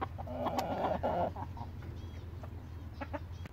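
Ixworth chickens clucking nearby on a smallholding, a short burst of soft, busy clucks that tails off into scattered quieter calls.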